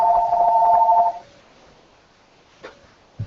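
A telephone rings briefly indoors, a bright electronic trill lasting about a second before cutting off, followed by quiet room tone and a couple of faint knocks.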